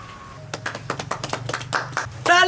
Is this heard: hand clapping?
yes